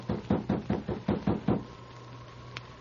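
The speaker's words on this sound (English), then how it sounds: "Sergeant Preston, with King at his side, knocked on the door of Paul Hubbard's cabin" Knocking on a wooden cabin door in a radio drama: seven firm, evenly spaced raps in a quick run, close and clear, then quiet room tone.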